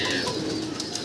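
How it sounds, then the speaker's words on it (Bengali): Many free-roaming pigeons at a pigeon farm give a continuous cooing murmur under a wash of flock noise, fairly loud and close, with no voices. "দেখেন কবুতর আর কবুতর, অনেক কবুতর আছে ছাড়া"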